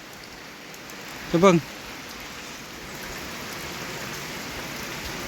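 Steady rain falls outdoors in a rural Thai-Lao setting as a constant broadband hiss, while a voice speaks briefly over it.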